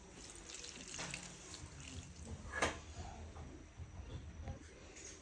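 Fenugreek (methi) leaves are washed under running water at a sink, making a soft, continuous splashing and trickling with one brief louder splash midway.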